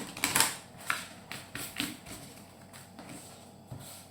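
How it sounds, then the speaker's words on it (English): A Sacred Traveler oracle card deck by Denise Linn is shuffled by hand, giving a few uneven bursts of soft papery flicks and taps, loudest at the start and then thinning out over a quiet room. "The shuffling is crap,"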